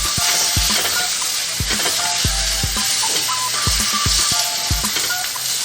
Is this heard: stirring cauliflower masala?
yes